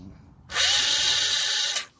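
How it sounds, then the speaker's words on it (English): A handheld drill motor fitted with a 98-thousandths bit starts a pilot mark while installing LED wheel-well lights on a Lexus GX460. It gives one loud, close whine lasting just over a second, then stops, with no talking. "I took a 98 thousandths drill bit with my handy drill motor right here, and all I did was start drilling just to get a mark"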